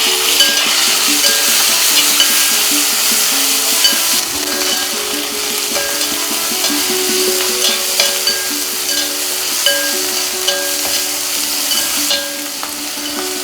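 Chopped tomatoes sizzle steadily in a hot pan for a kadachakka (breadfruit) masala curry, with a continuous close frying hiss and occasional light scrapes and clinks of stirring, no voices.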